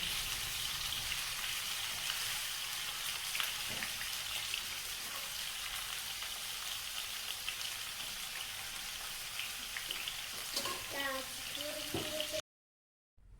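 Sunflower oil in a pan sizzles and crackles steadily as pieces of food fry, a continuous hissing close by, with a few clinks near the end before it cuts off.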